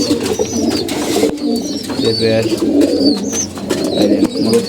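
Several pigeons coo in a loft, low rolling calls overlapping nearby, with sharper chirps and flutters mixed in and a voice speaking at times beneath them.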